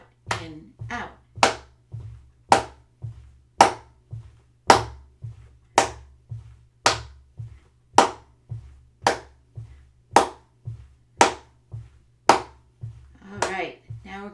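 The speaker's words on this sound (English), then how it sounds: "Now we're going to do clap and wait." Hands clap one at a time in a steady, evenly spaced beat during a children's movement lesson, about a dozen sharp, close claps separated by short pauses, with brief voice sounds at the start and end.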